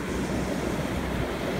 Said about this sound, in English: Oh, the tide's coming in, Mario